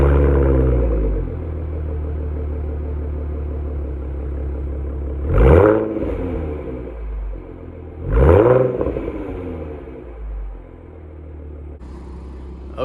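A Ford Mustang with racing stripes and a small spoiler fires up and settles into a deep, steady rumbling idle, with two sharp revs blipping up partway through before it drops back to a low burble.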